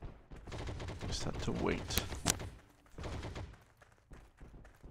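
Rapid bursts of gunfire in the shooter Heroes & Generals, several close, sharp shots and volleys packed together, then sparser reports as the firing tapers off, with someone speaking briefly over it.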